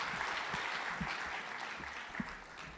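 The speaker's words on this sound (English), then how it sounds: "Can you give yourselves a very big round of applause?" Big round of applause from a large audience at a provincial education gathering, a steady dense wash of clapping sustained throughout, fairly distant and even in level.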